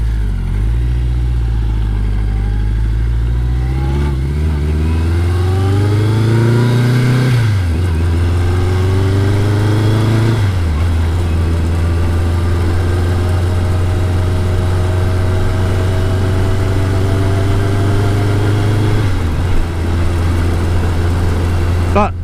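A motorcycle with a sidecar attached runs steadily with a loud, close engine drone, and its pitch rises and falls through several gear changes as the combination gets underway.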